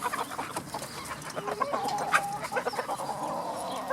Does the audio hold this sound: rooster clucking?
yes